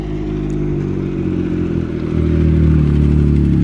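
A Can-Am Ryker three-wheeler fitted with a steering stabilizer rolls by with a deep, throbbing engine rumble close at hand that grows louder and heavier partway through the few seconds.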